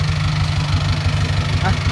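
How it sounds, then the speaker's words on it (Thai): A tractor engine idles nearby with a steady low chugging rumble, a faint voice briefly audible underneath. "รถไถมาแล้ว"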